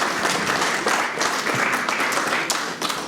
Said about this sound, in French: Hans Luzolo, sous vos applaudissements